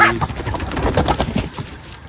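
Pigeons coo in low, throaty murmurs, several birds close by, with a soft rustle of movement around them.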